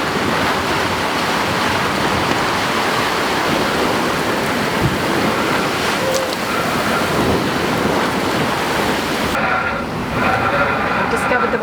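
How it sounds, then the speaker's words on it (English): Heavy rain pours onto a sailboat on a lumpy open sea, a loud unbroken wash of drumming rain and rushing water close around, softening slightly near the end. "The sea's really lumpy, and now it's bucketing down."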